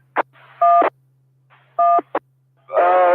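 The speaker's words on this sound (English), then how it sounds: "somebody's trying to make a phone call" Telephone dialing tones come through over an amateur radio net: short touch-tone beeps in quick bursts, some brief clicks between them, riding on a faint steady hum.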